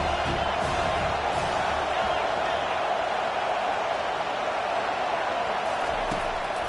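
Stadium crowd at a college football game between Miami and Ball State roars steadily through a big third-down defensive play, a dense continuous wash of cheering with no breaks.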